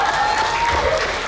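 A brief burst of audience applause at a talk-show event in Pemalang, a dense, steady patter of clapping that lasts about a second, with a faint tone in the background.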